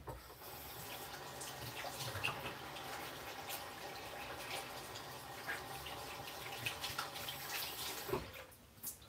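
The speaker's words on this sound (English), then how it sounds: "Wash my hands." Hands are washed under a running kitchen tap, a steady broadband rush of water with small splashy bursts as the hands move, continuous and fairly close for the whole stretch.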